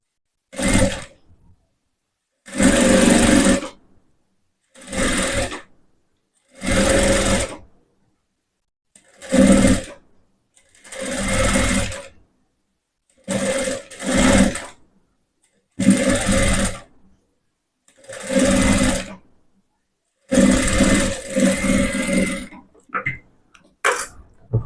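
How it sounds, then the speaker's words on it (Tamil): An electric sewing machine stitches a blouse in about eleven short, loud bursts of rapid whirring, separated by quiet pauses, with the final run lasting longer. "இன்னொரு தையல் போட்டுக்கலாம்."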